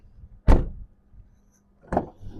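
Two sharp door thumps about a second and a half apart on a 2009 Volkswagen Caddy Life 1.6 MPI, close and distinct against a quiet background.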